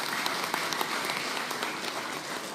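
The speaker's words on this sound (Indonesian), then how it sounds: "Kita berikan tepuk tangan yang meriah buat beliau." Faint, distant applause from a large crowd at a political party event announcing a vice-presidential candidate, a steady wash of clapping with sharper individual claps poking through, no speech.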